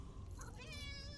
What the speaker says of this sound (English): hello, little black cat.